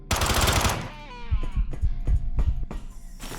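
Shotgun fire in the video game Quasimorph, opening with a loud dense burst of blasts and followed by a series of sharp separate shots amid other game sounds, with no talking.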